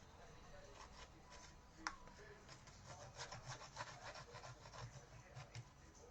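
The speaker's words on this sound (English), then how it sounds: "Scuff the edges up." Faint, close rubbing strokes scuff up the edges of a papercraft piece, a soft raspy scraping repeated in an irregular rhythm, with one sharp tap near the start.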